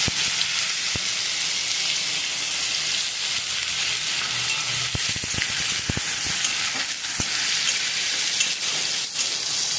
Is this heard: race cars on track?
no